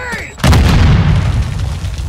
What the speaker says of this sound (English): Semtex out! Grenade!